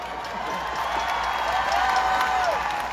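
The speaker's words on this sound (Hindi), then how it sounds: "मेरे दोस्तों के लिए जोरदार तालियां।" Applause and crowd noise from the audience at a live Kapil Sharma comedy show in Vancouver, a steady wash of clapping with scattered cheers running through the whole stretch.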